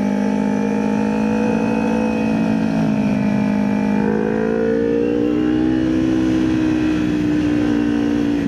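A car engine drones loudly and steadily throughout on a road during a night motorcycle ride, its pitch rising slightly as it accelerates close by.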